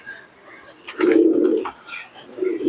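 Pigeons coo at a pigeon-flying tournament, two short low throaty bursts close by over light outdoor background noise.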